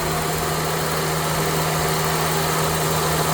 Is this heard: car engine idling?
yes